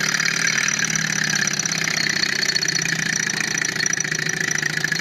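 A Stirling engine runs and revs up, giving a close, steady mechanical hum with a rapid rhythmic chugging that holds throughout without any talk.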